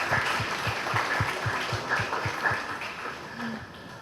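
Audience applause for student panel presenters at an event, a steady patter of clapping lasting about three seconds and then thinning out, with faint scattered voices underneath.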